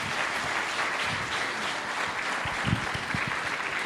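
A church congregation at a Sunday service in La Paz applauding, steady dense clapping throughout with a few sharper nearby claps, loud and close, no speech over it.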